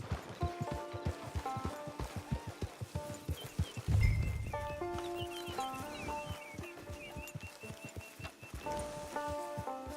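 A horse in the video game Red Dead Redemption 2 Online walks near a camp, with rhythmic clip-clop hoofbeats over soft ground, a short snort, and game music and chickens clucking faintly behind.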